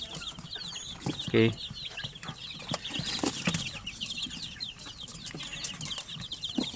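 Native chickens clucking on a backyard farm, steady soft clucks and chirps throughout with a louder call near the start, someone talking briefly over them.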